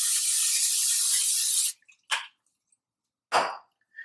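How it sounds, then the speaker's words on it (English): A long hissing spray of olive oil cooking spray onto chicken lasts over a second and a half, followed by two shorter bursts of spray, close and fairly loud, with no voices. "I'll go ahead and spray some olive oil spray on there"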